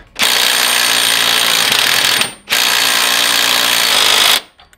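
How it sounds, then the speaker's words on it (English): An impact wrench rattles a bolt into a Ferrari F430 or 360 engine mount in two loud, sustained bursts separated by a brief pause. "Put the impact on it just to get it in there farther."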